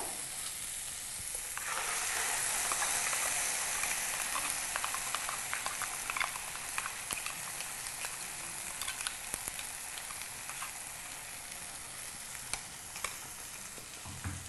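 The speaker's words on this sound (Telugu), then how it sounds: "కాజు కొబ్బరి పేస్ట్ వేసి బాగా కలపాలి." Cashew and coconut paste sizzles and fries in a pan of mutton korma with ginger-garlic paste, a loud continuous crackle with scraping stir strokes and sharp ticks throughout.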